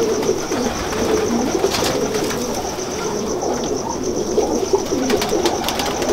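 Pigeons in a loft coo in repeated low, throaty rolls close by, with occasional brief bursts of wing flapping over steady background noise.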